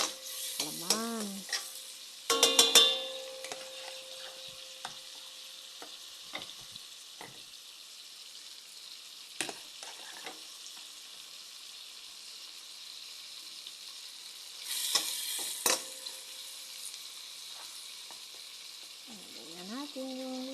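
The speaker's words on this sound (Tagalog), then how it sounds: "Lagay na natin yung laman. Igisa-gisa natin siya." Meat tossed and stirred in a pan with garlic, onion and tomato for ginisang monggo, a few scraping clatters and a soft background sizzle, with quiet gaps between the stirring bursts.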